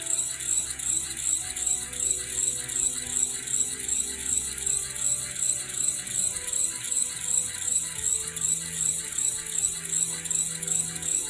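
A small acrylic compass motor spins at full speed on its bearings, giving a steady, rapid mechanical ticking and rattle that runs evenly and closely throughout, with no voices.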